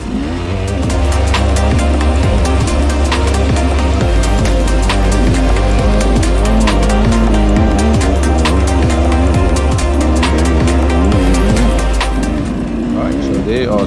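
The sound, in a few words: enduro motorcycle stuck in loose gravel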